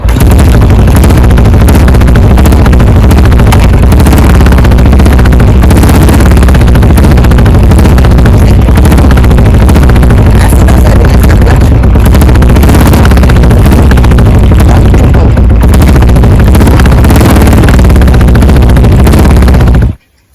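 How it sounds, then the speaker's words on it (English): A Royal Enfield motorcycle fitted with a clutch-plate conversion revs hard, the clutch dropping with a little throttle so the rear wheel spins; a loud, continuous, close engine roar fills the scene before cutting off abruptly. "as soon as I release the clutch with little bit of throttle, there is instant power delivery and the wheel spins actually"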